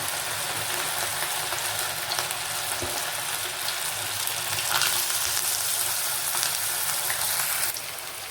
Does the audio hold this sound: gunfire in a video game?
no